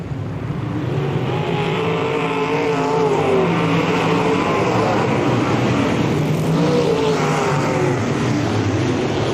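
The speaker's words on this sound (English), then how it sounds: "Down the backstretch, it's Billy Drake in the 9 car" Race cars roar down the backstretch at the 1996 Spoon River Speedway Summer Nationals, a loud continuous pack of engines droning and revving with rising and falling pitch as they pass, while an announcer's voice is faintly mixed in.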